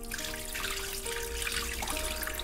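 Soaking water is poured off hard-grained rice after about half an hour to an hour of soaking, giving a steady close trickle and splash of water running for a couple of seconds with no talk.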